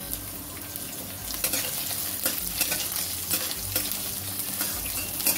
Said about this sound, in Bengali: পেঁয়াজ ও রসুনের কাঁচা গন্ধটা চলে যাওয়া অবধি আমি ভেজে নিলাম।